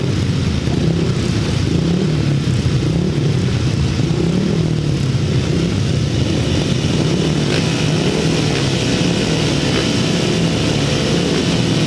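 A pack of 375cc solo grasstrack motorcycles roars away from the start of a race final at a Bewdley meeting, with continuous loud, rough engine noise throughout.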